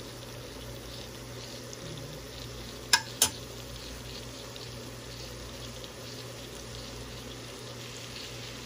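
Tomatoes cooking in a pan for ginamos, a steady quiet sizzle and simmer throughout, broken by two sharp clicks or utensil taps close together near the middle.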